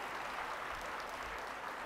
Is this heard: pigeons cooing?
no